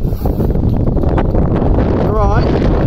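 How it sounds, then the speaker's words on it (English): Wind gusts along the Huddersfield Narrow canal, a loud steady rush buffeting the microphone throughout, with people chatting nearby under the noise. "Oh, it's windy now, isn't it?"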